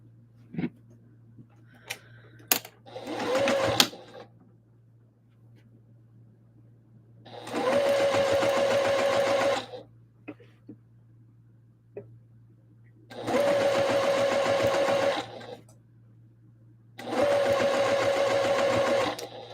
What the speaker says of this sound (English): Just top stitching this bottom layer to the top layer.